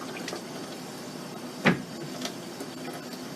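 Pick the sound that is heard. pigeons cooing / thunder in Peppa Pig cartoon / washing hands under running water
washing hands under running water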